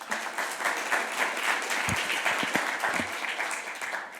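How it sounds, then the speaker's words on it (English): Audience applause fills a summit hall for housing changemakers, steady dense clapping throughout that sounds close and full, with a few louder low thumps near the middle and no talk over it. "Let's give Allie a round of applause."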